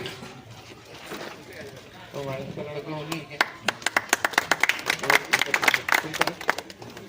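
An audience claps at a community wedding hall event, scattered hand claps growing into a brisk round of applause after someone speaks over a sound system.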